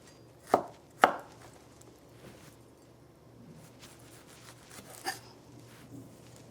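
Knife chopping a salad ingredient into pieces on a cutting board, two sharp close chops near the start followed by a quieter cut later and a faint one after, without speech.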